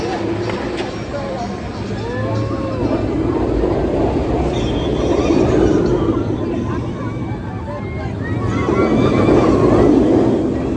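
The Banshee inverted roller coaster train at Kings Island roaring and rumbling past with squealing wheels, loud and sustained, mixed with screams and crowd voices.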